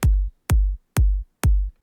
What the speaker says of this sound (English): We have a 4 on the floor kick.